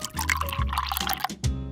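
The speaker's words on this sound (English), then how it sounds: "I'll pour some water here" Water poured into a bowl while making a miniature smoothie, a short splashing pour with dripping liquid and a fresh trickle near the end.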